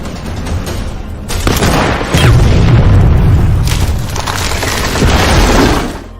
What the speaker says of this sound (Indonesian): Igora pun menggunakan senapan Scud untuk menembak mortir tepat sebelum pasukan tank Jerman